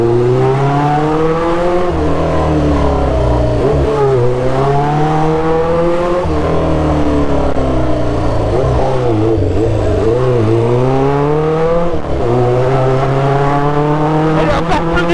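A Honda CB 500 Four cafe racer motorcycle with an open exhaust revs and roars continuously, rising and falling in pitch with throttle blips, raw and unmuffled, close by throughout.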